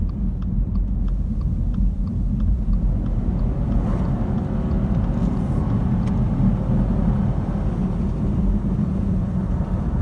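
A car passes on a snowy mountain road in Big Bear, its broad low rumble heard steadily from inside a moving vehicle, with no talk over it.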